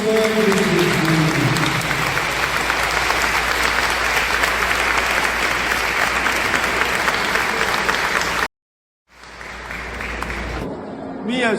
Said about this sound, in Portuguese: aplauda o preciosíssimo sangue de Jesus.